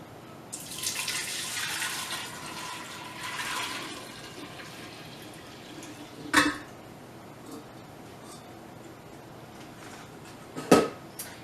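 Tea and honey mixture pours into a jar, a soft splashing trickle over the first few seconds, followed later by two brief sharp knocks.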